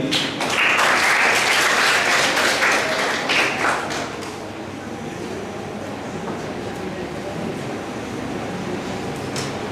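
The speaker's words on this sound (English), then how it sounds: "Please clap for him." Workshop audience clapping for a speaker being called up, a dense burst of applause for about four seconds that then thins to a softer, lingering patter.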